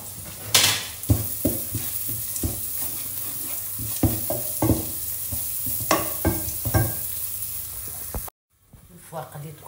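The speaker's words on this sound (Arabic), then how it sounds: "تحطوها تقلى مع البصلة" Carrots and onion frying in a pan for a meatless sauce, steady sizzling with frequent stirring scrapes and utensil knocks, close up, ending in a brief cut to quieter kitchen sounds.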